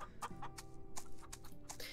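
Chickens clucking on a farm in the video game Farm Together, short quiet clucks repeating over a low steady background with no speech.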